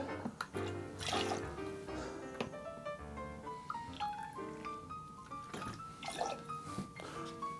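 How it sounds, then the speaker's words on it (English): Ocean Spray Diet Cranberry Juice is poured into a keto vodka cocktail, a soft gurgling, trickling stream of liquid splashing into the glass with bright clinking tones over about seven seconds. "I'm gonna add some Ocean Spray Diet Cranberry Juice."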